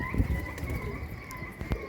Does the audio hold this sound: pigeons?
yes